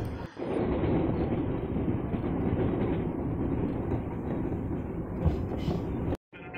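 A KRL commuter train departs Kebayoran station, a continuous loud rumble of rolling wheels and rail noise heard from on board, steady throughout before cutting off at the end.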